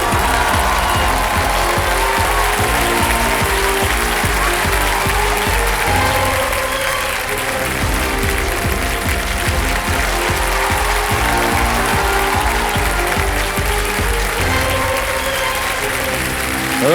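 A studio audience on a Hindi television quiz show applauds a contestant, steady dense clapping sustained loud throughout with no voices over it.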